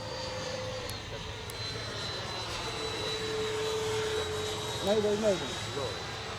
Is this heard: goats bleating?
no